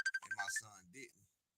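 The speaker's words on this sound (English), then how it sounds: "Yeah, I think you got a phone call." A phone ringtone chimes on a live boxing call-in show, a steady repeating electronic tone at the start with people talking over it and continuing after it stops.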